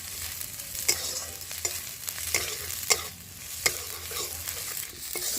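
Slit green chillies and coriander stalks fry in a pan with a continuous soft sizzle, while a spatula scrapes and stirs in regular sharp knocks about once every second.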